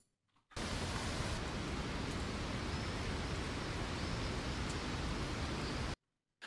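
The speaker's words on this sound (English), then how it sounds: "align to our wind sound" Looping wind sound effect in FMOD: a steady, loud broadband rush of noise that starts abruptly, holds constant for several seconds, then stops just as suddenly.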